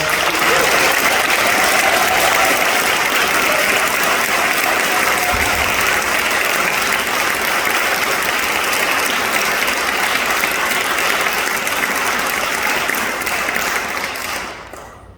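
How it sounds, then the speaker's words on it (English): An audience at a Second Amendment bill signing ceremony in the Rhode Island State House gives the bill sponsors dense, sustained applause for about fourteen seconds, steady and full before tapering off at the end. "Please join me in a round of applause for them"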